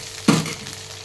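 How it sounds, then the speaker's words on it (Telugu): Tomato pieces hit a hot pan with a sudden short sizzle and stir, up close, then fade to a soft, steady frying hiss. "టమోటా ముక్కలు వేసుకోవాలండి. కొంచెం మగ్గనివ్వాలి."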